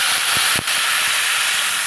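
Water poured into a hot pan while making upma sends up a loud, steady steam hiss, with a brief dip and a few low knocks partway through.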